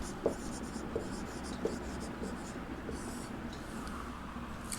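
Chalk or marker scratching across a classroom board during a Sanskrit lesson, a steady run of small strokes with a few sharper taps, fairly close and alone with no talk over it.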